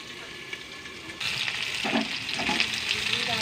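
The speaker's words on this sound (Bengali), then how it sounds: "আলুগুলো লাল লাল করে ভাজা হয়ে গেছে।" Potatoes frying in oil in a karahi give a steady, close sizzle that grows noticeably louder after about a second, with light stirring movement through the crackle and no talk.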